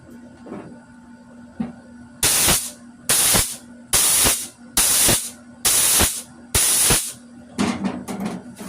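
A grease gun forces grease into a zerk fitting on a Titan mower wheel, six sharp hissing bursts in a regular rhythm, close and loud, followed by a few shorter spurts over a low background hum.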